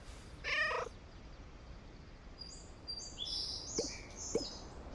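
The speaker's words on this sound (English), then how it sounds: "Pet the kitty." Cat in the video game Starsand Island, a brief soft cat call early on, then quiet chirpy bird-like tones over a low background hum; faint overall.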